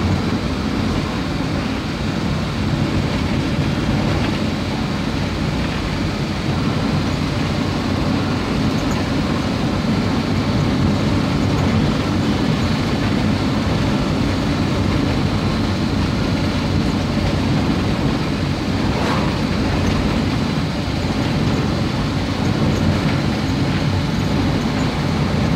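A vehicle travels fast along a cement-hardened road, producing a steady, unbroken roar of engine and tyre noise throughout with no voices.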